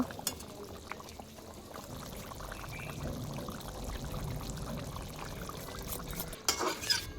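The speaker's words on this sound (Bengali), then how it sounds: "এবার ঢাকা খুলে আবার ভালো করে নেড়ে নেব।" A spoon stirs spicy mutton curry in a pot with wet, thick squelching and faint clinks of metal on the rim, fairly quiet and steady, ending in a brief louder scrape, no speech.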